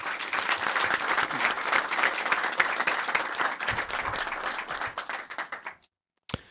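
A crowd applauds at a comedy show, steady dense clapping for about six seconds that stops abruptly, followed by silence and one brief sound.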